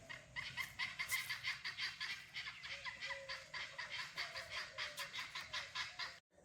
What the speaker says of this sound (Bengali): এই রিসোর্টে আপনি এই রকম সব সময় পাখিদের কুজন শুনতে পাবেন